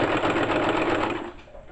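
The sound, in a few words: sewing machine stitching panties seam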